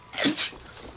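A single short sneeze bursts out close by, brief and sharp, followed by quiet room tone.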